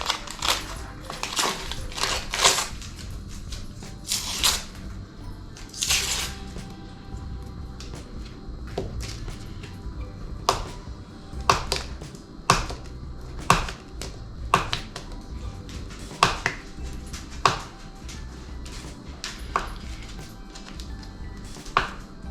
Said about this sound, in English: I'm just going to unwrap my sticks and then cut them in cubes